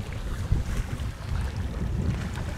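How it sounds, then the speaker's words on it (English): Strong wind blasts across an open reservoir, a dense low rumble of gusts battering the microphone for the whole stretch, steady and close with no voices. "She's bloody windy though."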